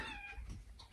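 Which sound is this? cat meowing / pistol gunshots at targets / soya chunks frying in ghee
cat meowing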